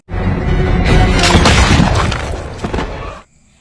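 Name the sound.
big rifle shot making a witch's head explode, film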